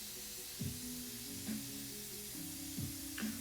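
A paint sprayer hisses in a steady, even spray with brief intermittent pulses and trigger clicks, close up and continuous without talk.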